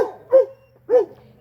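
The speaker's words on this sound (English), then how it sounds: "We should bark at Nixie." Dogs sitting outside give two short, loud, close barks about half a second apart, sharp yipping bursts followed by quiet.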